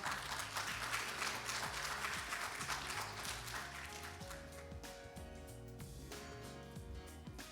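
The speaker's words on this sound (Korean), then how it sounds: "박수로 맞이해 주시죠." Audience applause at a patent law conference as a judge is invited to the stage, dense clapping filling the room steadily before slowly thinning toward the end, with some music or tonal background beneath it.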